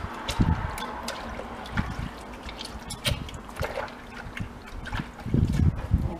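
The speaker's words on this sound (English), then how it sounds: "so we're going to wash our hands." Hands being washed in a bowl of warm soapy water make close, irregular splashes, trickles and drips, with sloshing bursts at the start and near the end.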